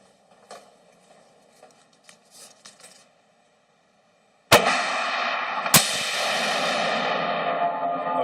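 An M48 rifle fired outdoors, two loud sharp shots about a second apart with a long echoing tail, after a quiet stretch of faint handling sounds.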